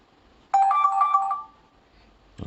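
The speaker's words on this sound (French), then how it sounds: "Donc ça c'est la sonnerie." A DOOGEE N30 smartphone rings with a short, bright melodic chime. The tone lasts about a second, sounds loud and close, and plays alone before quiet.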